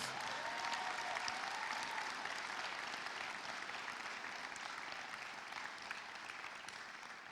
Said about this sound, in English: Can we please give all of those special people in the stands a big round of applause?